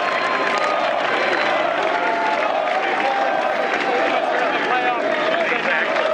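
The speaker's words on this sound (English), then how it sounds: "And listen to the crowd." A large golf gallery at the Masters roars with continuous applause and cheering for Rory McIlroy, a sustained, loud wash of crowd noise.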